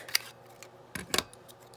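Scissors cut paper scraps for a flag embellishment craft, giving a few quick, crisp snips close by: one short cut, then a pair of snips near the end against a quiet room.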